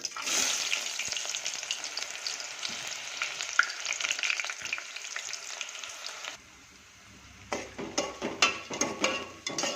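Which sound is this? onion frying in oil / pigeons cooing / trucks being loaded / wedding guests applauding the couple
onion frying in oil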